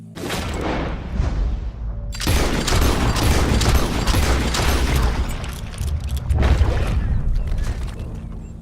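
Dense, loud bursts of gunfire and booming crashes fill Red Dead Redemption 2 gameplay, roaring almost without pause, with a brief quieter gap before the din resumes.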